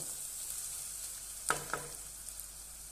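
Chili powder sautéing with spice powder in a pan, a faint, steady hiss with two quick metallic spoon clinks near the middle, quiet and close, no voices.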